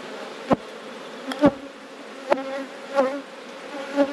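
Honeybees buzz close by during a brood inspection of a hive, a steady hum broken by several sharp, loud passes as individual bees fly near, about five within a few seconds.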